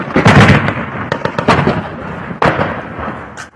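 Heavy 12.7 mm machine gun fire during street fighting on the outskirts of Bakhmut, heard as loud, close bursts of booming shots in a few clusters with echoing reports between them.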